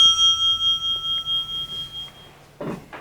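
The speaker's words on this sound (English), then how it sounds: "Once the bell rings, you may begin." A bell rings to signal the start of a speaker's timed turn in a local debate, a steady ringing tone that holds for about two seconds, followed by a brief noise.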